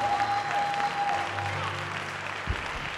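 Sustained applause from a church congregation clapping hands, steady and full throughout, with a sustained musical tone beneath and a brief thump near the end.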